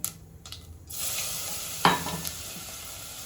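Garlic drops into hot oil for a fenugreek-leaf bhaji. After a quiet start the close, bright sizzle bursts on and holds steady, with a clank of a utensil against the pan partway through.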